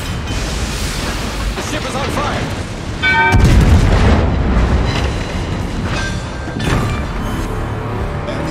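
Heavy naval guns of the Scharnhorst warship boom in a video game naval battle, with a loud broadband blast partway through over a constant rumbling wash of battle noise and sea.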